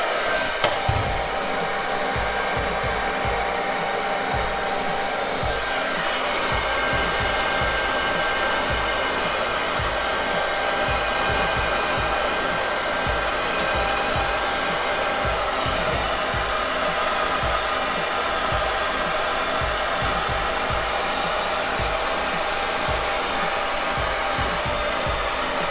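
A hair dryer blows steadily close by, drying a handlebar mustache, its constant whooshing hum running unbroken for the whole stretch with faint flutters as the airflow shifts.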